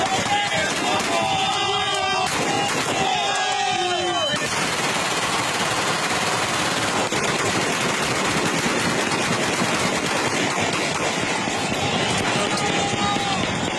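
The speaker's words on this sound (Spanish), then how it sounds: "un grupo de reos fuertemente armados y lanzando tiros" Heavily armed prison inmates in Venezuela fire repeated gunshots into the air in broad daylight, a dense, continuous crackle of rapid shots amid a noisy crowd scene, with some voices early on.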